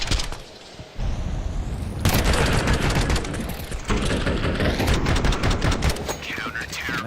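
Rapid Famas rifle bursts in a Counter-Strike match, dense overlapping shots from several weapons under steady commentator talk.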